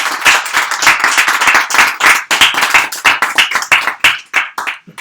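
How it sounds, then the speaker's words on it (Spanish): Audience applause welcoming an invited author to a book presentation, a lively burst of many hands clapping close and loud, steady throughout with sharp individual claps standing out. "lo recibamos con el aplauso que se merece"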